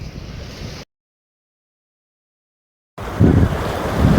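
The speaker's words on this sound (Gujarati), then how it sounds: "आ छे ऊंचा कोरडानो दरियो" Sea surf and wind roar across the shore at Uncha Kotda, Gujarat, a broad rushing wash that cuts out to total silence for about two seconds, then returns louder with heavy wind buffeting.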